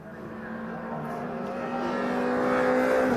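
MG Metro race cars roar past on a circuit during an MG Metro Cup race, a steady engine drone with a sustained tone that swells louder toward the end as the field closes in, with faint commentary beneath.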